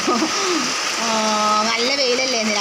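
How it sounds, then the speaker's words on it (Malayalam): Heavy rain pours down in a steady, dense hiss that runs the whole time, with a voice-like tonal sound and a person talking over it. "മഴയ്ക്ക് ഒരു ശമനവും കാണുന്നില്ല ഗായ്സ് നല്ല സമർത്തി പെയ്യട്ടെ"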